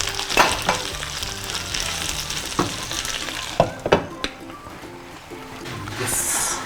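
Prawns frying in a pan over the fire, a steady close sizzle and crackle broken by several sharp clicks and knocks of utensils against the pan.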